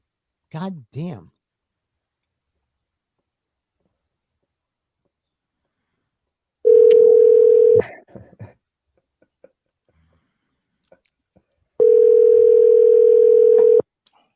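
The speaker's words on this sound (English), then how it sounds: "And she's not going to answer the phone." Ringback tone on an unanswered outgoing phone call, two long steady tone bursts separated by a pause, with a few clicks between them and a brief voice at the start.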